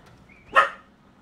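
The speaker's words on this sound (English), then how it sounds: "Sorry about my dogs barking, but they gotta let the neighbors know." A single short dog bark, one sharp burst in the middle of an otherwise quiet moment, somewhat distant and moderately loud, heard alone without speech.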